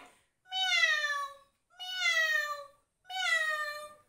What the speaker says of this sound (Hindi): बिल्ली कैसे आवाज करती है